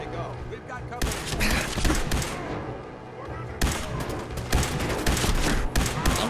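A minigun in Fallout 4 fires loud, continuous rapid bursts with brief breaks between them, dense and punchy gunfire throughout, with a player's voice faintly mixed in.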